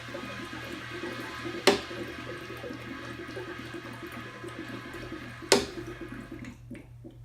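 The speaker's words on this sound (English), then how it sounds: "You open up the bleed off on the empty keg detector and you'll hear air rushing out of it, bubbling happening." Pressurized air and leftover liquid bubble and hiss steadily out of an opened bleed-off valve on an empty keg detector in a beer dispensing system, a low continuous gurgling with two sharp clicks, no voices.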